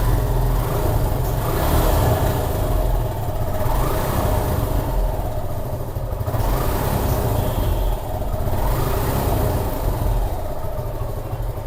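A motorcycle engine running close by, a steady throbbing drone that swells and eases as the throttle is revved, with no talking.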